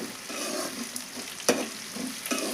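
Onion pieces fry in oil in a pan for a cabbage chana dal curry, a soft steady sizzle with a brief stirring scrape and clack midway, close up and without talk.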